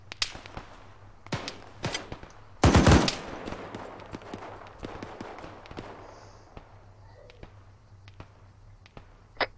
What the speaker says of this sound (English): We are being fired upon by it.